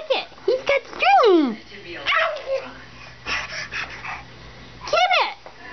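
A dog makes a few short yips and whimpering vocal bursts, loud and close, interspersed with a person talking and coaxing it in a home setting.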